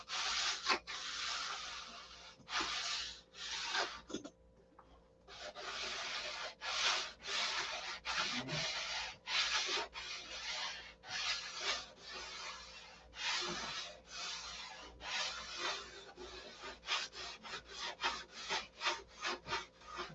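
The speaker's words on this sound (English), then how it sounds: "Listen to the sandpaper." Sandpaper rubs back and forth over wood by hand in steady, rhythmic strokes, close and fairly loud, with short pauses between passes and no talking.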